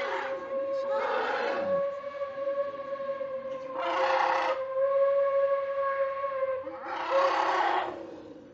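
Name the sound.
train whistle at Blijdorp zoo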